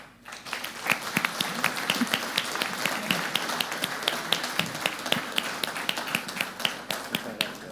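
An audience claps in a sustained burst to send off the authorities at the opening of a CPI authorities panel, with individual sharp claps standing out in a modest crowd.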